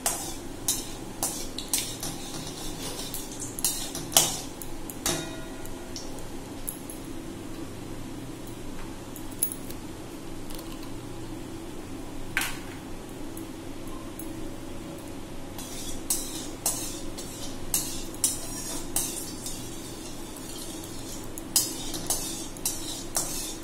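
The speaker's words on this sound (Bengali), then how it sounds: "কালো জিরেটাকে আমি একটুখানি ভেজে নেব যাতে সুন্দর একটা গন্ধ বেরোয়।" Black cumin seeds fry in a pan for a pabda fish curry, giving a steady soft sizzle throughout, with frequent light clinks of a utensil stirring against the pan.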